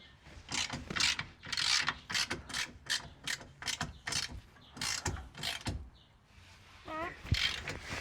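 Ratchet tightening nuts on the rear suspension of a Mitsubishi Pajero during a coil spring pad replacement, heard as rapid repeated clicking bursts in quick runs, close and fairly loud, with brief voices between.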